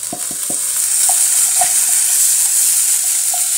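Onions, tomatoes and green chillies fry in a pan on a gas flame turned up full, giving a loud, steady sizzle with a few spoon clicks and scattered taps from stirring.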